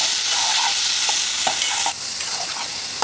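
A spoon stirs brinjal and ridge gourd curry in a pan, scraping steadily and close up over a constant hiss of sizzling.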